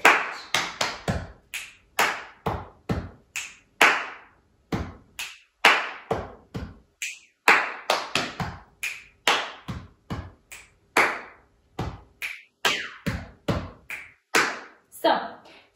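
Rhythmic body percussion of chest taps, finger snaps and hand claps in a steady repeating pattern, crisp and close, each hit sharp and separated by short gaps.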